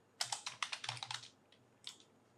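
Fingers typing on a computer keyboard, a brisk run of about a dozen light key taps followed by a pause and a couple of final taps, close and quiet.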